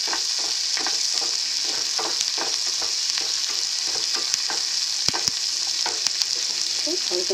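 Onions sautéing in a pan for capsicum gravy, a steady close sizzle with frequent scraping and stirring clicks throughout, no voices.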